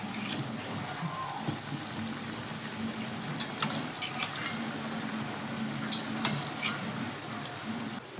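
Mysore bondas sizzle and bubble steadily in hot oil, with occasional clinks and scrapes of a utensil turning them, close and moderately loud without speech.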